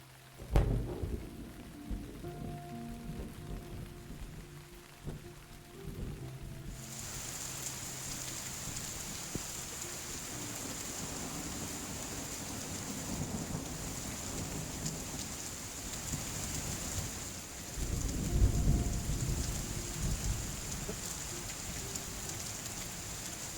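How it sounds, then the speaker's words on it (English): Rain and thunder sound effects playing at a tabletop role-playing session: a steady hiss of rainfall that suddenly brightens into heavier downpour, with a low rumble of thunder swelling near the end. "I am going to personally control the rain sounds because I think that would be better."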